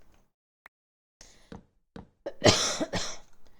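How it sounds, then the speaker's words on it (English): A person coughs several times, starting with a few short, sharp coughs and building to two louder, harsher bursts near the end. Close and fairly loud. "Apologies for the coughing."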